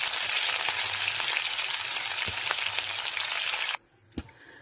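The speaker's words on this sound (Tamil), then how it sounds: "இதே ஆயிலில் நான் இப்போ அந்த பச்சை மிளகாய் போடுறேன்." Green chillies fry in hot oil for a Kerala-style inji curry, making a loud, dense, continuous sizzle with a few light clicks. The sizzle cuts off abruptly near the end, leaving faint knocks in near silence.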